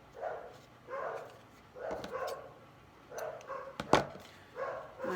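Several dogs give short bursts of barking and yipping at a moderate distance as they come back in from a walk in bad weather, with one sharper, louder bark near the end.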